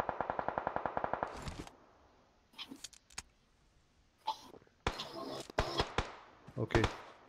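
Video game shooter gunfire opens with a rapid automatic burst of evenly spaced shots, followed by scattered single shots and short bursts, some sharp and close, others quieter, with a voice talking in between.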